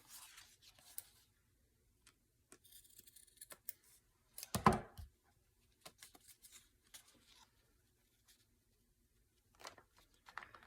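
Scissors trim paper for a handmade winter journal in a few quiet, close snips scattered among soft paper handling, with a louder rustle partway through.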